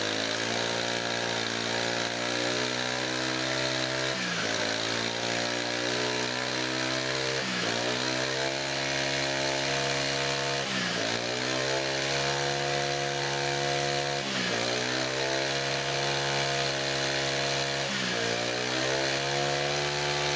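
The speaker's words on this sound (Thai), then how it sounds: "ทีนี้พอทำการเร่งเครื่องนะครับ พอทำการเร่งเครื่องเนี่ยนะครับ อ่า มันถึงจะติดนะครับ" A Honda GX25 brush cutter engine runs loud and close with a buzzing, high-pitched drone, revved up in repeated surges about every three to four seconds, with no talking.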